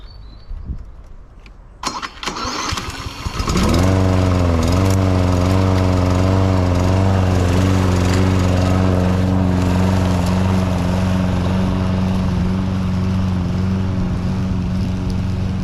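A lawn mower with an electric choke cranks briefly, then its engine catches and settles into a loud, steady idle close by.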